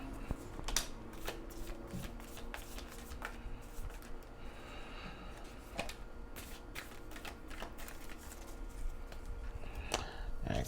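A tarot card deck being shuffled, a soft rapid riffling and flicking that runs throughout with occasional sharper snaps, close and fairly quiet against a faint room background.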